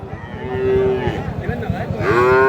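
A Friesian-cross bull calf lets out a loud, drawn-out moo nearby at a cattle market, followed by a second rising bellow, over a low rumbling background.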